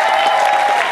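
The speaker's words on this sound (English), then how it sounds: "Give a big cheer to Gareth at the back" A concert audience applauds loudly, a dense, continuous wash of clapping close by for the full second.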